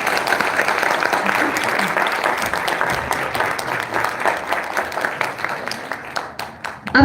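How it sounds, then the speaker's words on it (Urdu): Audience applause in the Punjab Auditorium, sustained dense clapping from a large crowd that thins toward the end. "ایک دفعہ اور تالیاں ان کے لیے"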